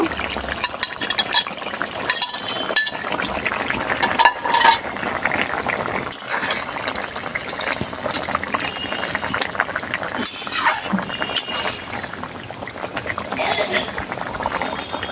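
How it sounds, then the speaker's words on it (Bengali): Fried tangra fish, made in a five-spice style, goes into a simmering curry. Steady bubbling and liquid stirring continue throughout, with occasional clinks of a utensil against the pot and a voice speaking over it. "এবারে আমি এই ভাজা মাছগুলো দিয়ে দেব"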